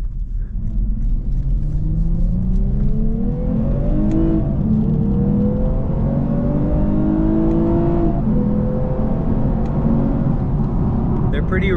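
A 2023 Lexus IS 350 F Sport AWD accelerates through gears on its paddle shifters, the engine rising in repeated climbing pulls with brief drops at each shift, loud and close from inside the cabin.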